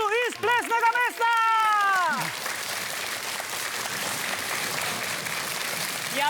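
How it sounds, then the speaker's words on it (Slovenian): A television quiz studio audience applauds street dance world champions from a dance school, a steady, broad wash of clapping that takes over after a host's voice fades out and continues to the end. "En velik aplavz svetovnim prvakom v street dancu iz Plesnega mesta!"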